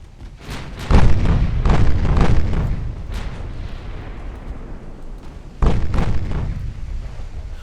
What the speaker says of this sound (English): I'll bring all my secondaries and main guns to bear.